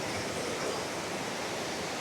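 High-pressure river water rushes near Kundamala in Pune, a dense unbroken roar at close range with no voices over it.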